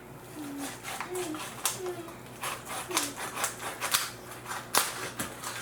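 A knife cuts into the bone at a duck's neck during butchering, making repeated short scraping, crunching strokes in an irregular rhythm, close and moderately loud, with a voice talking faintly in the background.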